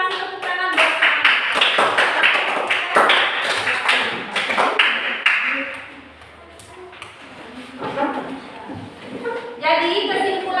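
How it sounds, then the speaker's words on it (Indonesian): Classroom of students applauding presenting groups, rapid dense handclaps in bursts that fade midway and then pick up again, with children's voices chattering throughout. "Kita kasih tepuk tangan buat mereka."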